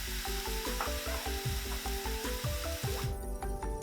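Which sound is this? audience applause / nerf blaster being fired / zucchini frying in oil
zucchini frying in oil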